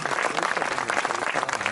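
Steady audience applause at a live concert in Gaeta, a dense, continuous clapping wash from a crowd, fairly close and even throughout with no voices over it.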